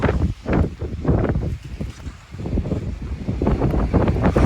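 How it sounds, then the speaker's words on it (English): Cold, gusty wind on the Appalachian Trail near Mt Katahdin blows across the microphone in uneven surges, rising and falling with loud rumbling buffets and no voices. "It is cold and windy."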